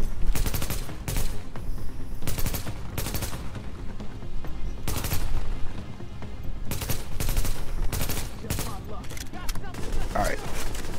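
Repeated bursts of enemy gunfire in a shooter video game, loud sharp volleys and rapid automatic strings recurring throughout, with game effects layered around them.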